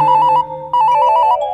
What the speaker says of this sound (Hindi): लग गया फोन, लग गया लग गया। घंटी जा रही है, जा रही है।